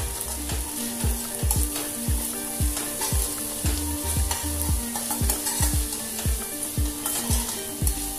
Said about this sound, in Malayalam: രണ്ട് കപ്പ് ചുവന്നുള്ളിയും രണ്ട് പച്ചമുളകും ചേർക്കാം ഇതിലേക്ക് ഒരു ടീസ്പൂൺ ഉപ്പ് കൂടി ചേർത്ത് ഇളക്കാം